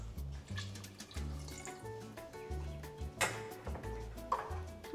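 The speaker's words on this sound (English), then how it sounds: "I'm also gonna add a little more water to this." Water runs from a tap into a soup pot of cow heel, butternut squash, carrots and dumplings, a quiet uneven splashing and trickling that starts and stops, with a few soft kitchen clatters close by.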